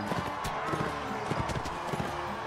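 Horse hooves clip-clop in a quick, uneven rhythm in the Mount and Blade video game, with a faint neigh mixed in, under a dense, loud game background.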